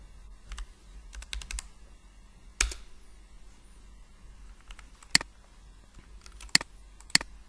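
Scattered keystrokes on a computer keyboard while drafting a wall in Archicad, a few sparse clicks and taps with short pauses between them, close and fairly quiet over a low room hum.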